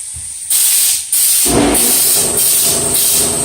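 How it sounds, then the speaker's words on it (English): A loud, steady spray hiss from an aerosol can of truck bed liner, starting and stopping in short bursts before running continuously up close. "Okay, I just finished spraying it."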